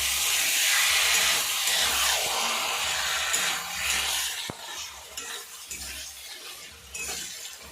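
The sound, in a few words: stirring lote fish in spice masala in pan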